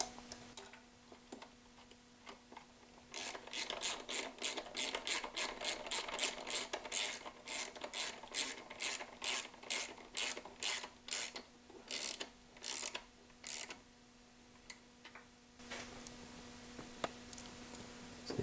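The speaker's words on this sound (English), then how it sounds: "grab an extension, a socket, and tighten them down all the way" A ratchet with an extension and socket tightens bolts on a BMW E34, giving quick bursts of crisp clicking in uneven runs, close and fairly faint against a quiet background.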